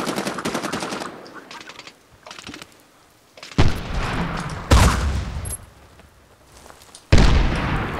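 Gunfire in Medal of Honor Warfighter: rapid automatic bursts near and loud, then several heavy single shots and blasts with gaps of quieter rattle between.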